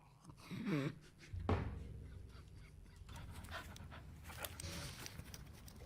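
A dog pants in quick rhythmic bursts near the microphone, with a clatter and some background noise partway through.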